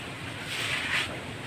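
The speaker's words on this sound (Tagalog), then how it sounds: "Grabe lakas ng hangin" Strong typhoon wind under Signal No. 4 in Manila, roaring steadily as a broad, rushing wash close to the microphone, swelling slightly in gusts midway with no voices.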